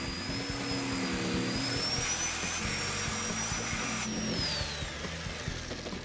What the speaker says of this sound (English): Hope I can cut it with a Sawzall.